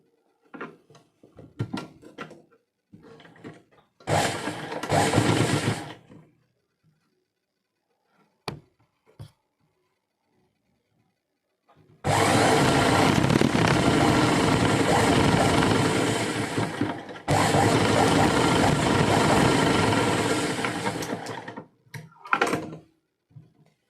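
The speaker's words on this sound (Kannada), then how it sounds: "ಇಲ್ಲಿ ನಾವು ಸ್ಟಿಚ್ಚನ್ನು ಹಾಕಬೇಕು" A domestic sewing machine stitches a blouse strip in two long, steady whirring runs, one near six seconds and another lasting about eleven seconds, with short bursts and clicks of handling between them.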